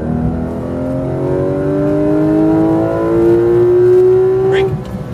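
A Porsche GT3 RS accelerates hard out of a corner on a track, its engine note climbing steadily in a loud, continuous rising whine with one brief shift near the end.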